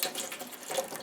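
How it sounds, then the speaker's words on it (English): Water from a can of corn pours into a strainer in a steady, close splashing rush with small surges, heard alone. "you want to drain your corn. You don't want any of that water in there"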